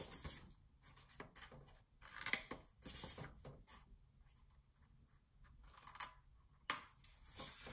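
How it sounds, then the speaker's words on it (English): Quiet snipping of scissors rounding the corners of a paper envelope, a series of short cuts at an irregular pace with soft handling noises between. "now I'm just going to corner these off with my scissors"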